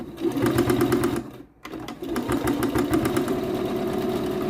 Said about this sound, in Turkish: İkinci parçayı hafifçe çekiyorum ve dikiyorum.